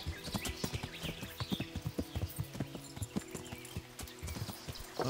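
A horse's hooves clip-clop in a quick, steady galloping rhythm in the video game Kingdom Come: Deliverance, close and fairly quiet, with no voices.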